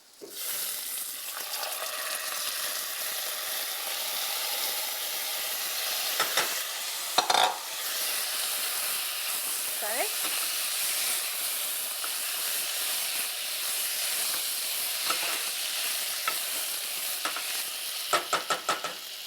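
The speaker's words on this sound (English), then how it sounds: "We'll add 1 tablespoon of oil, 2 cups of rice washed and dried" Washed and dried rice is stirred in a tablespoon of hot oil, producing a steady close hiss and sizzle with repeated scraping of the spoon and a few sharper clinks. No one speaks.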